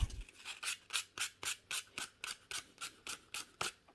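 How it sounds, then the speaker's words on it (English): Sandpaper rubbed by hand over the ground contact of a magneto charge coil, about a dozen brisk, evenly spaced scratchy strokes close up with no talking. "piece of sandpaper, doesn't matter what grit"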